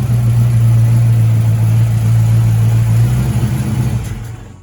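A 1953 Ford Crestline Victoria restomod idles loud and close, its deep steady engine drone holding for about three seconds before the note shifts and the engine is shut off, fading away.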